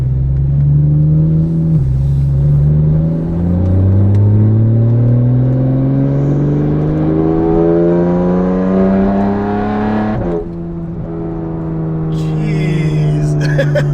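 A Porsche 911 fitted with a Fabspeed exhaust pulls away hard, its loud engine note climbing through rising revs with a shift and a brief dip near the end, heard from close by with a voice over it.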